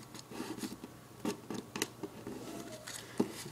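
Paper being folded over after cutting, soft close crinkles and crisp rustles in short irregular bursts, quiet and without talk.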